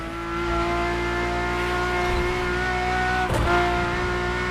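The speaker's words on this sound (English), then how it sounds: "The F50's core is a normally aspirated V12 that came straight from a Formula One." A Ferrari F50's normally aspirated V12 engine, racing in The Crew Motorfest, screams at high revs in a loud, steady, sustained howl. A brief rasp cuts in partway through, and no one talks.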